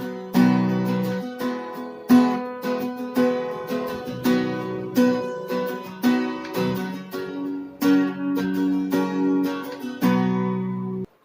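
Acoustic guitar strumming pattern for a worship song, a steady rhythm of about a dozen down and up strums on ringing chords, played close and alone.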